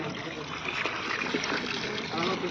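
Lime water for a low-cost homemade fungicide is poured from above in a steady, continuous trickle and splash, fairly close, with faint voices in the background.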